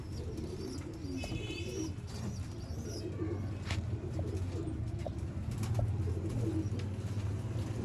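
Purebred Ferozpuri pigeons coo softly and repeatedly in a breeding pair's enclosure, with a low rolling murmur throughout and occasional faint chirps above it.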